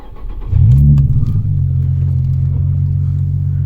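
A Nissan 350Z/G35 engine fitted with a lightweight flywheel rumbles loudly close by, revving up briefly before settling into a steady, deep drone while driving.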